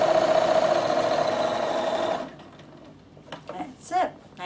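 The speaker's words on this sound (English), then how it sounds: "top stitch all the way around, remembering to secure your handles" A sewing machine top stitching around a beach towel bag runs with a fast, steady mechanical whir for about two seconds, then stops and someone speaks.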